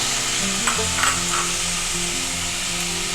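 Onions, green chillies and tomatoes fry in a pan with a steady, even sizzle, while a spoon scrapes and stirs now and then, close up and with no talk.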